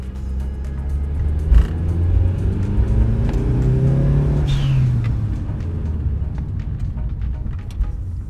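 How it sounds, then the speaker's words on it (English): Turbocharged car pulling hard at full throttle in third or fourth gear on an enclosed road, a loud steady engine roar with rising pitch over about eight seconds and a faint whistle partway through. "Obviously, you'll be going pretty quick at full throttle, third or fourth gear."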